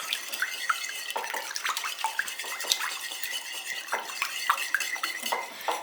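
Oil and a teaspoon of salt being stirred together in a bowl: a close run of light clinks and scrapes from a utensil against the dish, fairly steady, with no talk.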